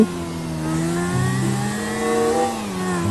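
A car driving in GTA V, its engine droning steadily with smooth rising and falling revs as it accelerates, up close and continuous with no talking.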